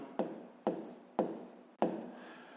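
Handwriting on paper while working a 5th-grade decimal multiplication exercise: four distinct pen or pencil strokes, each a sharp scratch that fades out, spaced about half a second apart, close and quiet.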